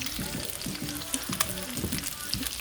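Fish frying in butter and oil in a pan on a home stove, a close, lively sizzle with popping spatters and a few rhythmic scraping or stirring sounds, no talk.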